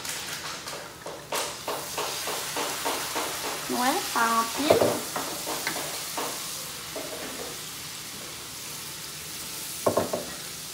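Wine splashes into a pan of lamb chops that have been fried well, setting off a steady close sizzle with scraping and stirring, and a short spoken remark over it.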